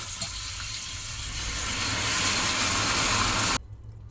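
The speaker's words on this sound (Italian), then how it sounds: "Ora gli diamo una bella sfumata col vino bianco." White wine poured into a pot of simmering meat sauce gives a steady, fairly loud hissing sizzle that builds slightly, then cuts off sharply near the end, leaving a faint low simmer.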